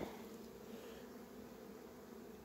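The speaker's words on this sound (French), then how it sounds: "une petite, un beau petit essaim" A small swarm of honey bees hums at an apiary hive, a faint, steady, even buzz with no voices over it.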